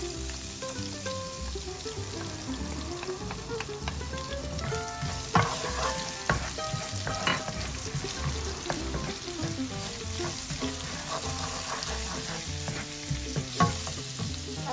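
Cumin and coriander seeds fry in a pan for a paneer bhurji, crackling and sizzling steadily up close with frequent stirring scrapes over a faint tonal background.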